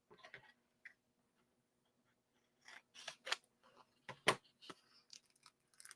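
Scissors snip through fabric for a sparkly appliqué in a quiet room, several close, sharp cuts arriving in small bursts with gaps of silence between them.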